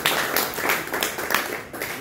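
Audience applause at a crypto meetup in San Juan, steady dense clapping throughout at moderate level, fairly close, with no voices over it.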